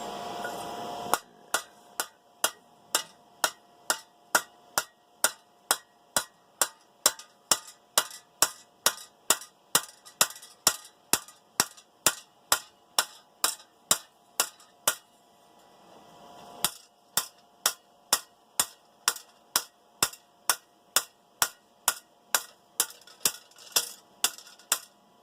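Hammer blows drive down a hot rivet on a forged camping grill, struck as a long run of sharp, evenly spaced metallic hits with a brief pause midway before the steady rhythm resumes.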